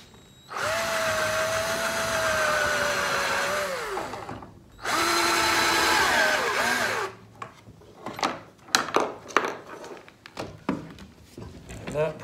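A power drill cuts a countersink into wood on a worktable sawmill, two sustained whirring bursts with a falling pitch as the bit bites in, followed by scattered knocks and scraping handling sounds, close up.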